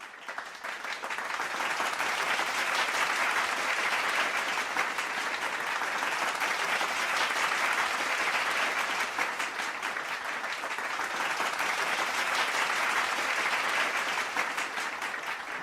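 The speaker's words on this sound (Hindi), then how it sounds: "जोरदार तालियों से उन सभी आरडी का स्वागत करेंगे दोस्तों।" Loud, sustained applause welcoming promoted members at a national achievement day celebration, a dense, continuous roar of many clapping hands holding at an even level throughout, with no talking over it.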